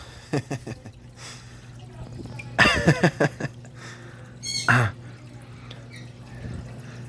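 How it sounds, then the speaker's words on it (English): Water splashing and dripping at a freshwater fish tank during feeding, scattered drops and a couple of louder splash bursts close by over a steady low filter hum. "water is landing on me and I don't want it to hit the camera"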